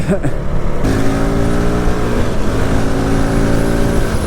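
A Honda CRF450RL dual-sport motorcycle ridden in stop-and-go commuter traffic: its single-cylinder engine drones loudly and steadily with a brief shift in pitch near the start, carrying on without pause.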